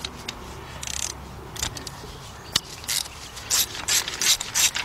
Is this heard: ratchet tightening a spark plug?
yes